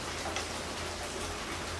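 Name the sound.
rain falling on a tin roof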